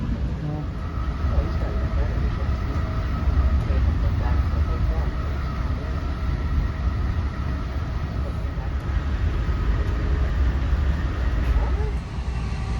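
NJ Transit commuter rail train riding the Northeast Corridor out of New York, a steady loud low rumble of wheels and cabin noise filling the whole stretch, with faint voices talking over it.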